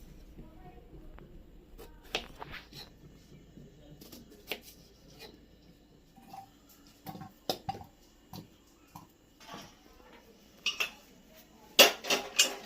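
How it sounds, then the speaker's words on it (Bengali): A knife cuts three peeled potatoes for a Bengali egg chop, giving sparse, irregular sharp clicks and taps of the blade striking a board or dish, with quiet gaps between cuts and a louder clatter at the end. "এই তিনটা আলুকে আমি কেটে নিলাম।"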